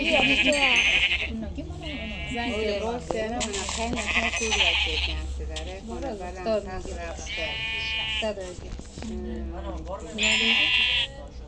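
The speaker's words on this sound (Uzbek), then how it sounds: "qo'ylarni topdim" Sheep bleat repeatedly, several loud nearby calls spaced apart, with a person talking throughout.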